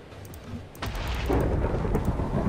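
A lightning strike cracks and rolls into thunder in the game Minecraft Tekkit, a sudden loud burst after a quieter moment, then a sustained rumbling tail.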